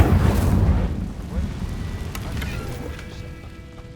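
Incendio fire spell cast in Hogwarts Legacy, a loud fiery whoosh and burst up front that decays into a fading crackling rumble.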